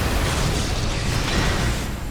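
Dense, continuous booming blasts from cannons and missile launchers in the video game Armored Core 6: Fires of Rubicon roll together into a loud, sustained wall of explosions and heavy rumble with no pauses.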